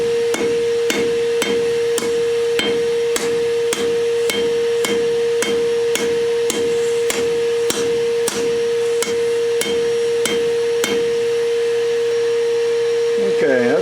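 A hammer forges a knife from a lawnmower blade, with steady, evenly spaced metallic blows, about fifteen strikes ringing loudly and close over a continuous droning hum, with no talking.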